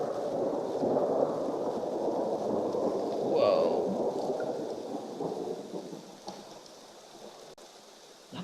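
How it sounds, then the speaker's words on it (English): Thunder rumbles low and far off over steady rain at an African wildlife camera site where giraffes are present, a soft swelling roll beneath the hiss of the rain. "Love a bit of thunder."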